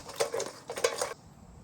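Hot crispy chicken pieces being tossed in buffalo sauce in a bowl, with two quick runs of clattering and scraping taps against the dish, close and fairly quiet, followed by silence.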